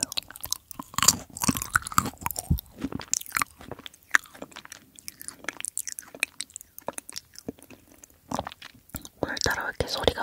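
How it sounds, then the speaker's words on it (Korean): Someone bites into a washed apple up close, with wet crunches and chewing in an irregular rhythm, interspersed with soft whispering. "애플 닦아서 먹어요."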